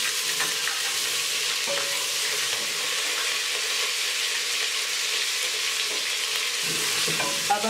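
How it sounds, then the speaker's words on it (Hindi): Ginger garlic paste fries in hot oil with cumin seeds and bay leaves, giving a steady, close sizzle with occasional scrapes of stirring and no voices. "अब हम इसको थोड़ी देर भूनेंगे।"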